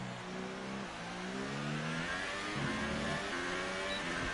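An F1 car engine running in max engine mode in the F1 2018 video game at France, a continuous high-revving whine with rising and shifting pitch, loud and alone throughout.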